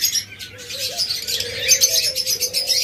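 Budgerigars chirp and twitter in a close, continuous series of bright calls, with soft background noise.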